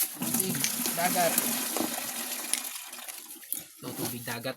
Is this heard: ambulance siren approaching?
no